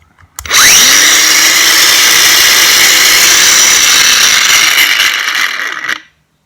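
A Bosch GWS 18-125 V-LI cordless angle grinder spins up with a rising whine, then runs steadily at a loud, high-pitched drone for several seconds before cutting off.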